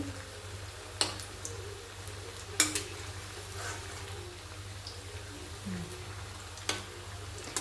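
Bottle gourd pitha frying in a pan, a faint continuous sizzle with a few sharp utensil clicks and taps spaced through it, close and fairly quiet.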